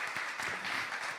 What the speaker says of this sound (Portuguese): Você pode aplaudir essa palavra?